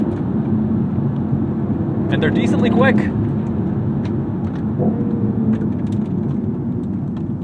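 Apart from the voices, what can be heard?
BMW i8 inline three engine growl during gear shifts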